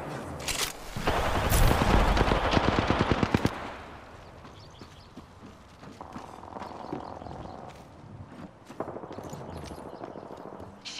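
Rapid automatic gunfire in the battle royale video game Apex Legends, a dense loud volley of shots over about three seconds, then fading to quieter scattered game sounds.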